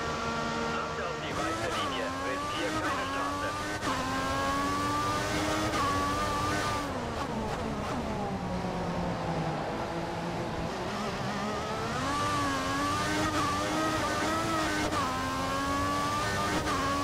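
Formula 1 race car in the F1 2014 video game during Bahrain qualifying, its engine whining steadily and rising and falling in pitch through gear changes while driving to warm the tyres, with someone talking over it throughout.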